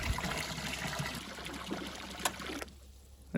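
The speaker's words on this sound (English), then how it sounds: "once this water fills up, that float's going to float up and kick the switch off up here" Water runs steadily into a cattle stock tank on a ranch in winter, a continuous trickling stream that cuts off abruptly near the end, leaving quiet.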